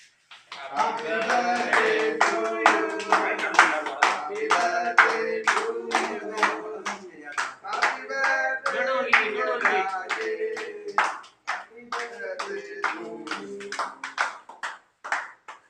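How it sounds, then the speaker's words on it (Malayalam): Hand clapping at a birthday celebration, a run of sharp, rhythmic claps that repeats steadily throughout, with voices singing or talking over it. "കയ്യടി."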